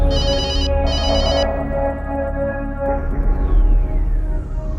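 A telephone rings in a scene from an Indian devotional film: a loud electronic ringtone with bright repeating trills, then a sustained tone that fades and gives way to background rumble.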